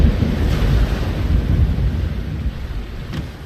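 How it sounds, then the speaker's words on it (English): A storm gathers in The Longest Journey video game, with loud, continuous roaring wind and deep rumbling that fades slightly toward the end. "A storm approaches, April, and it is no ordinary storm."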